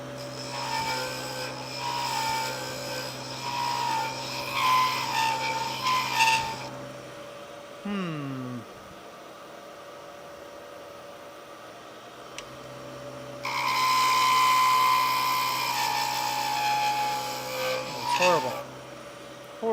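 A wood lathe spins with scraping and rasping bursts of a tool cutting a wooden ornament, pausing midway before another loud cutting pass.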